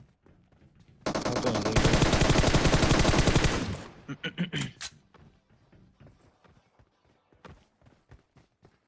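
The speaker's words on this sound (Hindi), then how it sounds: "कोई आगे से गोली चला रहा होता है" Sustained automatic rifle fire from a PUBG Mobile match, a loud dense burst lasting a few seconds, then scattered sharper single shots and faint distant pops, with a brief spoken remark.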